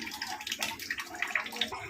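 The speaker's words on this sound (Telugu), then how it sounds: "శనగలు వేడి వేసేద్దాం వాటర్తోనే వేసేస్తున్నాం" Liquid splashes and gurgles steadily as boiled chickpeas with their cooking water are poured into a pot, with bubbling, sloshing bursts close by.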